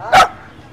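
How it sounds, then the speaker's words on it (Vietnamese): A dog at a mountain village market barks once at strangers, a single loud, sharp bark close by that cuts off quickly over a quiet background. "Thấy người lạ sủa đấy các bạn."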